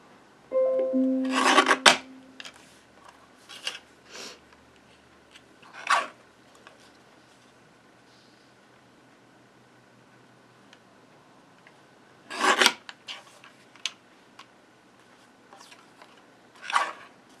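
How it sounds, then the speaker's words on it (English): Paper being trimmed for a handmade card produces a few short, close rasping scrapes separated by long quiet pauses, starting with a louder burst and ending with softer strokes. "I'm going to trim just the tiniest little bit off of this."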